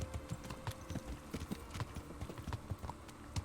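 Horse hooves clip-clop in a steady, bouncy rhythm in Kingdom Come: Deliverance, each hoofbeat crisp and close against a faint game-like background.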